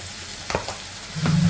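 Spices and ginger-garlic paste fry with koi fish and bottle gourd in a pan, a low sizzle with a couple of quick stirring knocks and a short rumble near the end, no speech.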